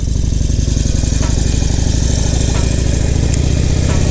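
A motorcycle engine runs loud and close with a steady, throbbing mid-pitched note while the rider works the throttle, and someone talks over it.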